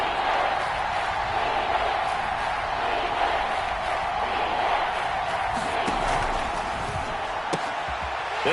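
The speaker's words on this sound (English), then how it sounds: "the crowd getting into it as we come up on a big 3rd down" Stadium crowd in a football video game on a big third down, a dense, steady roar of cheering that holds level throughout, with a few faint thuds and no clear talk over it.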